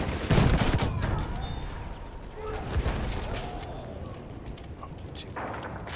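Battlefield 1 gunfire crackles in a busy firefight, rapid shots and bursts over a continuous rumble of battle noise, mid-distance and moderately loud.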